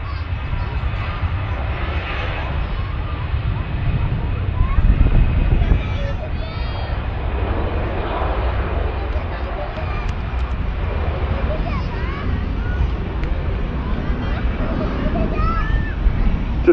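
A Jet2 Boeing 737 landing on the runway at Manchester Airport, heard as a steady, distant low roar with wind buffeting the microphone throughout and faint voices in the background.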